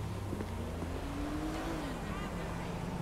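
A car engine in GTA V, a steady low hum with a faint rising and falling drone, playing quietly in the background over a constant wash of ambient noise.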